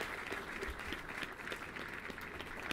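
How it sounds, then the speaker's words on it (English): An audience claps continuously, a dense, even patter of many hands that holds at a steady level throughout, heard fairly close with no clear talking on top. "Thanks for clapping."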